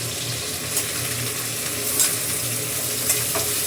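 Curry leaves, green chilli and onion sauté in a kadhai, giving a continuous close sizzle with a few faint scrapes of stirring and no talk.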